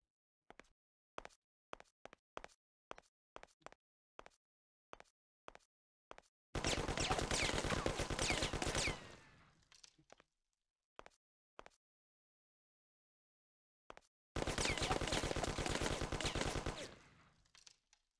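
Gunfire in Mafia: The City of Lost Heaven, a run of separate single shots followed by two long automatic bursts, crisp and loud against near silence.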